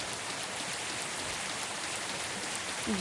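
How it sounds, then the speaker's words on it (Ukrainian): Steady rain falls in the mobile game Last Summer, a dense even patter across the whole stretch with a brief soft tonal blip near the end. "дощик падає, мені не мені подобається"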